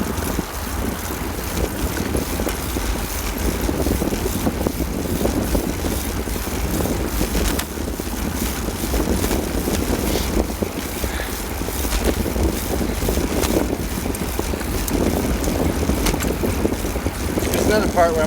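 Continuous wind buffeting a microphone during a morning bike commute, a broad steady roar with gusty swells throughout, alone without talk.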